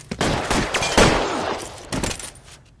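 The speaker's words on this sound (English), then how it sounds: "All units, officer needs help. 211 and shots fired." Gunfire during a shootout in the LA Noire video game, a loud cluster of close shots and crashing impacts over a couple of seconds that then tails off.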